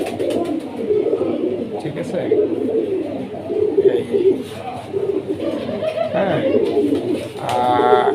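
Pigeons coo steadily close by in a loft, soft throaty calls overlapping and repeating throughout, mixed with other bird chirps and some background voices.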